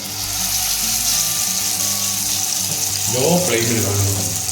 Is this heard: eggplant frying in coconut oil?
yes